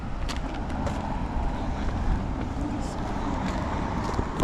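Cars passing on a road along the Estrada de Sete Tanques in Macau, a steady broad rumble of traffic with faint higher hiss, heard from the roadside at moderate distance.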